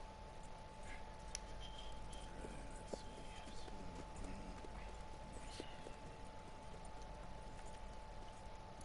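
Horse hooves clip-clopping in Red Dead Redemption 2, faint irregular clops under a steady hum and ambient game noise, with no talk.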